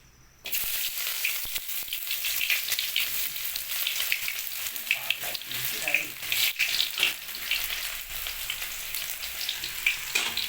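Onions tipped into hot oil in a heated kadai while cooking chicken liver, a steady loud sizzle and crackle starting abruptly and continuing throughout, with occasional stirring sounds.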